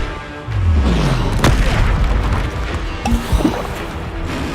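A Confringo blasting spell goes off in Hogwarts Legacy, a loud sustained boom with a falling rumble, followed by crashes and scattered impacts.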